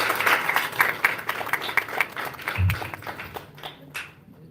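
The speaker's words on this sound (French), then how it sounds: "Des applaudissements alors." Audience applause at a conference, a moderate burst of individual claps close by that gradually thins out, with a brief low thump partway through.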